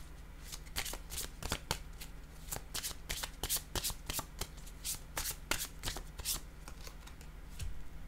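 Tarot cards being shuffled by hand in a quiet room, a steady run of crisp riffling snaps and soft slides at close range with no talk.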